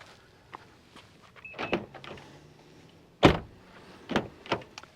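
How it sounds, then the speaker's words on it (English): Doors of a 2024 Mazda CX-90 PHEV opened and shut close by, with a soft latch click, then a solid slam and two more thuds spaced apart, no talk. "let's do a quick door sound check"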